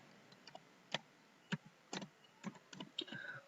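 Keys tapped on a computer keyboard while entering a family ID number into an online ration depot application form, a sparse run of quiet, irregular clicks close by with short gaps between strokes.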